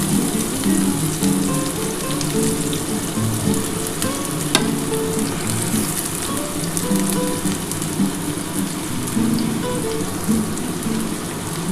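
Garlic and onion fry in hot oil in a pan for a dhaba-style chicken egg tarka, a steady close crackling sizzle with faint stirring throughout.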